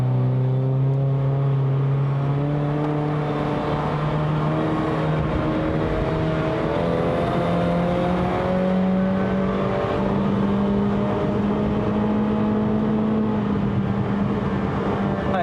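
A remapped Honda City Hatchback 1.5L GN5 on BC BR suspension climbs a wet hill road at Genting in the rain. Its engine drones loudly and steadily, and the pitch rises and falls as it pulls through the gears.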